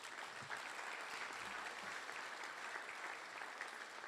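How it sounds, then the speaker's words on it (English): A quiet, steady patter of applause fills a hall of fame induction evening for university athletics, the crowd clapping evenly and distantly without a clear peak. "I'd like to just give ourselves a clap here"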